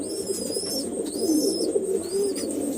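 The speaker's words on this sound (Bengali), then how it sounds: "মাদি পায়রাটা লাম্বাডি আছে, আর নটটা আন্ধ্রা আছে" Lambadi and Andra pigeons in a loft, soft repeated low cooing close by, with faint higher chirps above it and no talking.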